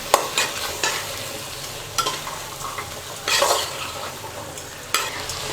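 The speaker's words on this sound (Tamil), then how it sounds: "இப்போ இது எல்லாத்தையும் சேர்த்து ஒரு 2 நிமிஷம் நல்லா எண்ணெயிலே நம்ம வதக்கிக்கலாம்" Beans and green peas being stirred and sautéed in oil for vegetable rice, with steady frying sizzle and repeated scraping stir strokes of a spoon against the pan, close and alone with no talk.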